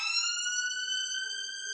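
A wailing ambulance siren sounds close and steady, its stacked harmonic tones holding level, with no talk over it.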